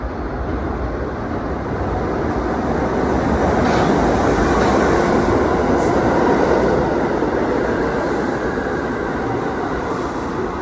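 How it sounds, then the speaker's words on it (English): A 1 line subway train rumbles loudly into the 191 Street station, a dense continuous roar of wheels and motor with faint high squeals, growing slightly louder midway. "So now the train's coming in, right?"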